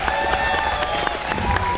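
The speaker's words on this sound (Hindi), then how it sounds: "एक बार जोरदार तालियां हो जाए।" A crowd at a crypto trading competition event claps loudly and continuously, a dense wash of applause with a few sharper individual claps and a low background rumble.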